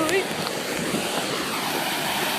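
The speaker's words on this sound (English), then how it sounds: "There's the waterfall." A waterfall rushes into a pond outdoors, a steady, dense broadband roar with no breaks throughout, and a voice briefly audible near the start.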